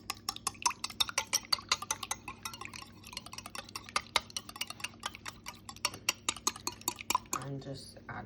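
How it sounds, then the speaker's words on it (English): A whisk rapidly clicks against a bowl while beating an egg with mustard for fried chicken batter, a steady quick metallic tapping close by, with a brief change in texture near the end. "I'm going to whisk 1 egg."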